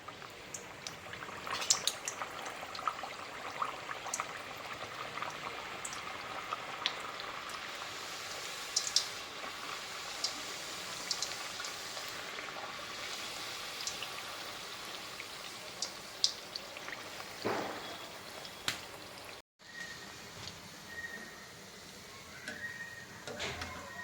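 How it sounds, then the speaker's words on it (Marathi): Ghargi, sweet pumpkin and jaggery fritters coated with poppy seeds, frying in hot oil over medium heat: a continuous crackling, bubbling sizzle with scattered pops, moderately quiet and steady, with no voices. "आता हे सर्व आपण तळून घेणार आहोत आपलं तेल गरम झालेलं आहे"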